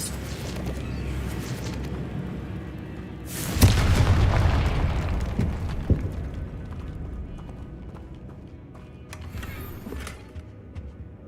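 In the video game Hogwarts Legacy, a Confringo fire spell bursts in a sudden loud boom that fades into crackling debris. Fainter game sounds and hoofbeat-like thumps run before and after the blast.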